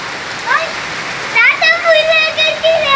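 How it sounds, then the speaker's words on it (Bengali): Steady hiss of rain falls in the background while a child and an adult talk over it, their voices close. "বাহিরে বৃষ্টি দেখবা?"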